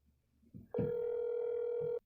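An old telephone in a video game sounds one steady, loud electronic tone that holds for over a second after a short click, with no talk over it.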